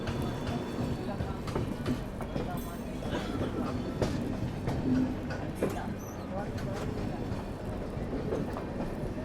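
Crowded Kashi Express, Lokmanya Tilak to Gorakhpur, pulling out with a rattling, clattering roll of wheels over rail joints while people talk over it.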